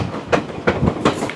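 A passenger train bound for the Grand Canyon in the US rolls along the tracks, wheels giving a regular clickety-clack rhythm over a steady low rumble, heard close and fairly loud.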